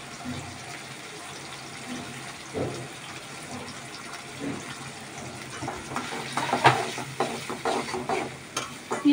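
Shrimp tossed into a pan with frying onions, a low sizzle building into busier crackles and scraping stirs in the last few seconds, with no voice heard.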